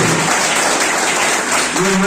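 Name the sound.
loud applause for Ganesh sir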